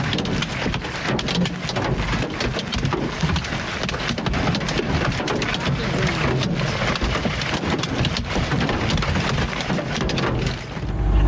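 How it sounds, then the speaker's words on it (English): A hailstorm in northwest Kansas pounds down hard, a loud dense roar of hits on surfaces that never lets up, with deep rumbles mixed in and no voices. "This hailstorm hit northwest Kansas with brutal force"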